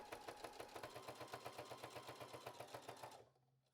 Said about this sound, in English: we'll take it back to our sewing machine and sew a straight stitch all the way around the hem